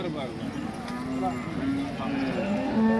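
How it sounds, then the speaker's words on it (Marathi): A farmer's large Gir cow at the Modnimb cattle market, with moos and livestock noise under a busy crowd of voices and market chatter throughout. "इथं एक शेतकऱ्याची गाय बघा."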